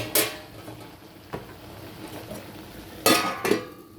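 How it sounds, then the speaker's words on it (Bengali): The metal lid of a cooking pot holding Bengali rui fish curry with ridge gourd and potato clanks as it is lifted, giving a few sharp knocks close by and a quiet bubbling in between. "ঢাকনাটা আবার খুলছি।"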